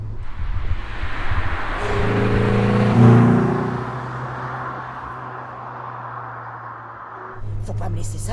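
A Renault 19 16S 16-valve car engine hums and rises in pitch as it revs, peaking midway and then settling, with a voice talking over it near the start.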